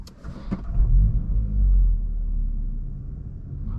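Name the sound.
2022 Volkswagen MK8 GTI car driving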